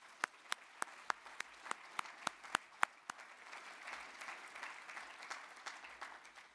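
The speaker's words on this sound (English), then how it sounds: "If you could join me in a little round of applause to thank them for their work" A handful of sharp, separate hand claps ring out at an even pace from a conference audience, followed by a faint, scattered wash of softer clapping and room murmur.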